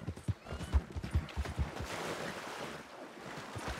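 Horse hooves clip-clop in a quick, steady rhythm in the Wild West game RedM, moderately close at first and then fading under a windy, rushing background.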